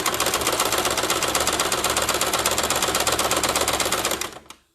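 A sewing machine stitches fabric in a fast, even run of needle strokes, loud and close, then slows and stops just before the end, with no talking.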